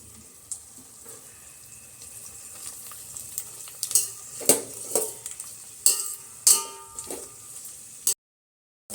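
Carrots and beans frying in oil in a pan for vegetable fried rice, a low steady sizzle broken by several sharp metallic clangs and stirring scrapes from a utensil against the pan, with no one speaking.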